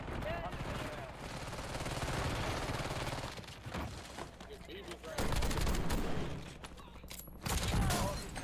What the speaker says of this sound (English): What shotgun is that? This is the KV Broadside.